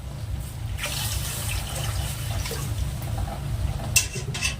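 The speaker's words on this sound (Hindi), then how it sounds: "बड़े वाले गिलास से भर करके 2 गिलास पानी डाल रहे हैं।" Two large glasses of water are poured into a cooking pot for rice flour dough for dudh puli, a steady liquid pour lasting several seconds with a faint clink near the end.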